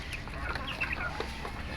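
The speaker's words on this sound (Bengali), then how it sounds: "এই যে ফার্মি মুরগি এগুলা" Farm chickens cluck in a steady, close chorus of overlapping calls with no talking.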